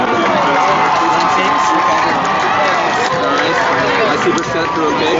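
A stadium crowd cheers for the Timpview cheer squad at a high school football game, a loud, steady roar of shouting voices with mixed babble that carries on without a break.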